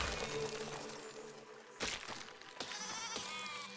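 Sheep in the video game Besiege bleat several times, wavering close cries over a quiet background, followed by sharp cracking impacts near the end.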